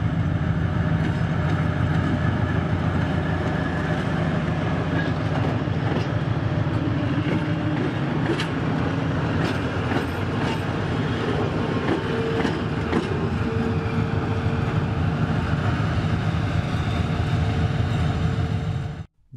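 A train runs on the Transpolar Main Line railway, heading toward Chum station, with a steady loud rumble and rhythmic wheel clatter on the rails. It continues without a break for almost twenty seconds, then stops suddenly.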